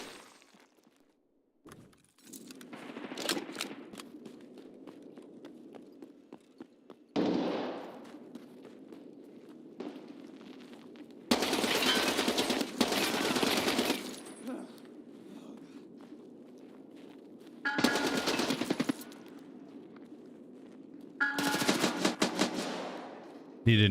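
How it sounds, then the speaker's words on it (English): In the video game Escape from Tarkov, several loud bursts of gunfire break out between quieter stretches of movement and rustling, with a voice talking between the shots. "Oh, nice shots."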